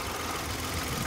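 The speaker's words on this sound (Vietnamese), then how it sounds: "Động cơ 3 máy" A 2015 Hyundai i10 with a three-cylinder petrol engine idles steadily, giving a continuous low mechanical hum with a slight knock and no talking over it.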